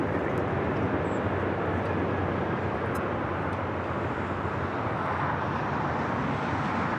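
Jet aircraft engine roar at LAX airport, a steady broadband rumble sustained throughout without pauses, moderately loud and continuous like a plane taxiing or spooling on the runway.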